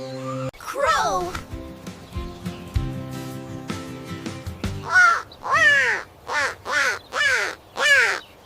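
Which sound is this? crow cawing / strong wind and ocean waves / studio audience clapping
crow cawing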